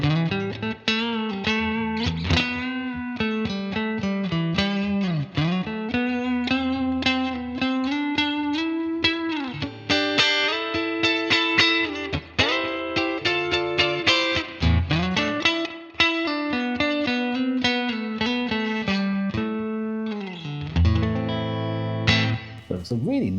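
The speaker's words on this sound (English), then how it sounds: "that is a Fender deluxe reverb on the vibrato channel with the correct cab for that setup, and then it's just got a grey compressor on it" Electric guitar lead played through a Headrush Gigboard modelling a Fender Deluxe Reverb on the vibrato channel with matching cab and a grey compressor: clear, sustained melodic notes and bends with light reverb, played alone and fairly loud.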